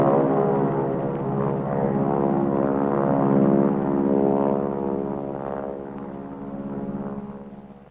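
A propeller plane used for aerial insect-control spraying drones steadily with a harmonic engine tone, loud and close, swelling slightly mid-flight before easing off.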